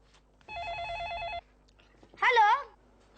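A telephone rings once with a warbling electronic trill, followed after a short pause by a brief burst of a voice.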